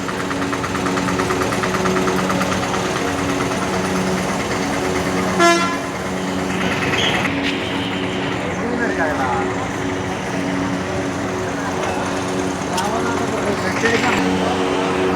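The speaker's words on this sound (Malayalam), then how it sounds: "വലിയ ബസ് സ്റ്റാൻഡാണ് കേട്ടോ മധുരയിലെ പല ബസ് സ്റ്റാൻഡിലും ഒരു ബസ് സ്റ്റാൻഡാണ് ഇത്" Busy bus stand in Madurai, Tamil Nadu, filled with idling bus engines and a continuous din, with a loud horn blast near the middle and more honks later, while people talk in the background.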